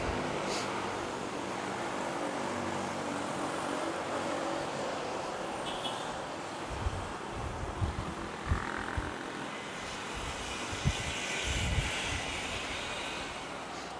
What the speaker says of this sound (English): It's an A320 from Katiklan, of course.